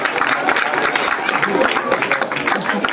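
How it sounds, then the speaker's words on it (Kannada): Audience applause at a live stage event, dense steady clapping from a crowd that fills the whole stretch without a break. "ಚಪ್ಪಾಳೆ ಬರಲಿ, ಚಪ್ಪಾಳೆ ದಯಮಾಡಿ ಚಪ್ಪಾಳೆ."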